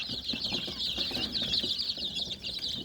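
A crowd of twelve-day-old chicks peeps constantly in shrill overlapping calls, near and moderately quiet, with faint rustling beneath.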